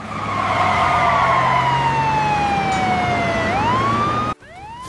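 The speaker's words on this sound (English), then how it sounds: "Listen, I hear a siren, Ben." A loud wailing siren sweeps slowly downward in pitch, then rises again, before cutting off abruptly near the end.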